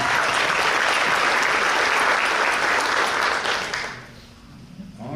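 Applause at a firefighter academy graduation ceremony: a dense, loud wash of clapping from a crowd that tapers off near the end, with a faint voice as it fades.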